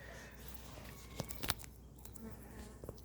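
Close, steady buzzing of local honeybees, with a few brief clicks and knocks over the hum.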